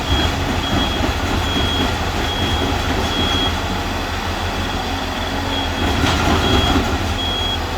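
A dump truck reverses at a construction site, its loud, steady engine rumble running the whole time with a continuous high reversing beep on top.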